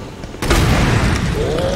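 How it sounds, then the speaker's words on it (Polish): A grenade launcher round explodes in the video game Resident Evil 2, a sudden loud boom partway through that gives way to a sustained rumbling roar and debris noise. "jeszcze jeden pocisk granatnika wyślemy w jego kierunku"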